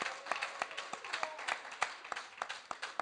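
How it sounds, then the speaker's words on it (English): Sparse, quiet clapping from a small audience at a youth mock parliament sitting, a few scattered hands tapping out irregular claps for about three seconds. "A round of applause for them again."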